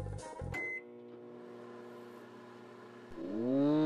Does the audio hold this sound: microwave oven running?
yes